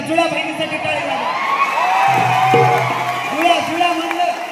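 A crowd at a live bharud folk comedy performance claps and cheers with whoops and shouts, rising to a loud swell in the middle before easing off.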